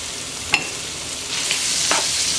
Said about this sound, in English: I'm going to go ahead and add in some fresh garlic because I love fresh garlic